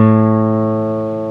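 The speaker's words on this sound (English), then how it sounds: "The fifth string, make it sound like this." A single open fifth string rings out on an Esteban steel-string acoustic guitar, a clear sustained note with rich overtones that fades slowly, played alone.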